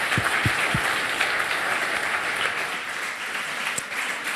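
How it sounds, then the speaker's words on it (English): An audience at a console hacking conference talk applauds the presenters, a steady wash of many hands clapping at moderate loudness, with a few sharper nearby claps standing out early on. "So if you'd like to give them a round of applause,"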